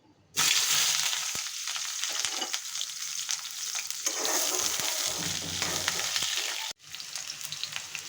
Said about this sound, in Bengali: এখন আমি বেগুন আলু ভেজে নেব।